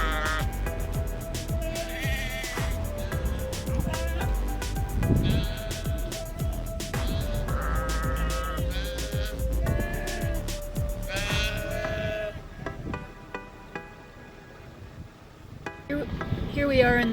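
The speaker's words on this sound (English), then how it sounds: "so the sheep are up here" Sheep bleat repeatedly from a flock grazing high on a mountain trail in Colorado's San Juan range, the calls overlapping and fairly close against steady wind noise, fading near the end.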